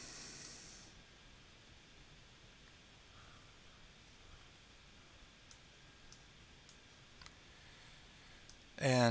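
A computer mouse clicks a few times, sharp faint isolated taps spaced irregularly over quiet background hiss.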